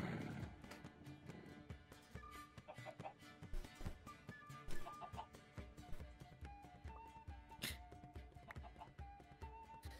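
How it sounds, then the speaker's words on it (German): Chickens in the Minecraft video game cluck repeatedly in short, uneven bursts over a busy background of other game sounds, with no talk. "Mann, das Huhn."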